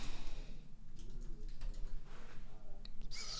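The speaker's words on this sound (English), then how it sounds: "let's type it in" Keys clatter on a computer keyboard as a plugin name is typed in, a quick run of light taps that stays close and even throughout.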